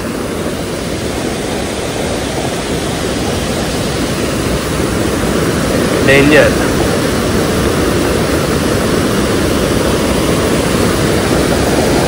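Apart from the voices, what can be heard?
heavy monsoon river water crashing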